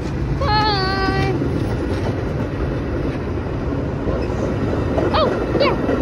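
Doubleheader freight train with two locomotives rolling past close by, a loud steady rumble of wheels and engines throughout, with a long descending horn blast early and a couple of shorter horn notes near the end.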